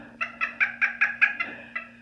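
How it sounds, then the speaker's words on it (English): Old English game birds give a quick run of about eight sharp, rhythmic clucking calls close by, a short pause, then one more call, with no talking. "That's 2 of my Old English game birds."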